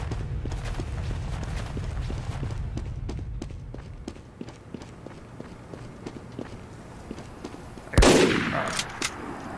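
Team Fortress 2 gameplay with a sniper: a run of sharp gunshots and quick footstep-like clicks over a low rumble, then one loud close shot near the end.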